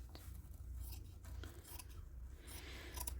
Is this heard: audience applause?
no